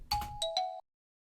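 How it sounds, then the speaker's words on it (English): A xylophone plays four quick, bright notes close up, each struck tone ringing briefly before the phrase cuts off into silence. "And then a xylophone,"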